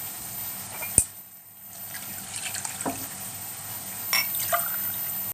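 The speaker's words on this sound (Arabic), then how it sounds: "نفس الكوبايه هنملاها مرتين ميه." Water from a small cup poured in twice to mix with starch for a garlic sauce, heard as a soft, faint trickle and splash after a sharp click, fairly close with no talk.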